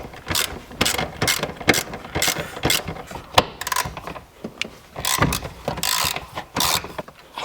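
A ratchet working on seized suspension bolts of a 1996 Mitsubishi Eclipse GST, rapid loud clicking bursts in uneven strokes up close, with brief pauses between pulls.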